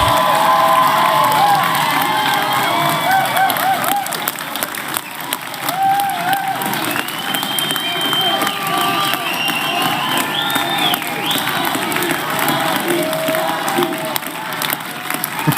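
A large crowd at a political candidates' debate applauds and cheers for a candidate, with steady clapping, whoops and shouts sustained at close, loud level throughout.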